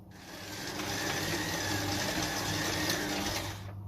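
An electric mixer runs steadily, blending cookie dough sweetened with a big tablespoon of honey. The motor whirs continuously and fairly loud from start to finish, fading only at the very end, with no talking.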